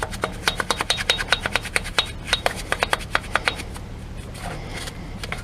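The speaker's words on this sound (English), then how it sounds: "Using a brush, you just rub in between the spokes." A brush scrubs wheel cleaner between the spokes of a car wheel that has heavy black markings. Fast, rhythmic rasping strokes come close and loud, about three per second, then settle into a softer, steady rubbing toward the end, with no talking.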